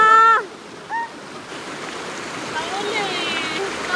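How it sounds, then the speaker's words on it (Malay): Steady rushing water fills the background throughout, with a brief voice near the start cutting above the flow. "Deras, air dia kuat."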